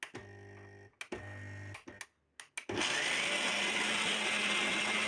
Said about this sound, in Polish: To wszystko wrzuciłam do blendera takiego i to wszystko teraz będę łączyć ze sobą